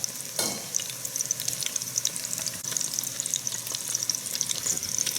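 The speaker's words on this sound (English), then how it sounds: "We're gonna brown them and actually finish cooking them in the sauce." Meatballs browning in a frying pan give off a steady, close sizzle with crackling spatter and occasional scraping as they are stirred or moved, with no voices.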